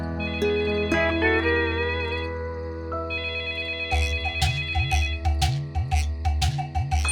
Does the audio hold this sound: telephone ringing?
yes